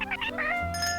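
A cartoonish cat meow emote from the video game Webfishing, a short, bright, rising-and-falling mew heard close and clear over faint background.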